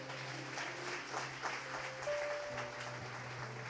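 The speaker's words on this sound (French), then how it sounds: "Vous voulez bien un bon applaudissement pour ça?" Audience applause at a church gathering, a soft, distant wash of clapping under a steady low hum and a faint held tone, continuing evenly for several seconds.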